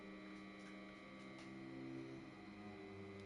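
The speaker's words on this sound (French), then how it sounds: "Je vais le couper, attendez, je vais couper le ventilo." An electric fan runs indoors with a steady, faint hum and whir, continuous and unchanging throughout.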